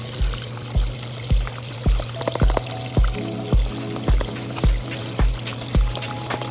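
Water runs steadily through a sluice while pay dirt is spooned in, with a constant flowing rush under a regular series of soft thumps about twice per second, close and without talk.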